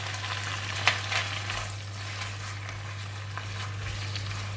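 Chinese broccoli (kailan) stir-frying in a wok for a salted fish dish, a continuous close crackling sizzle over a low steady hum, with one or two sharper clicks of the utensil.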